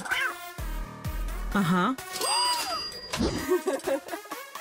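A cartoon cat gives a drawn-out meow that rises and falls, tangled with animated voices talking, a low buzzing tone and small electronic dings.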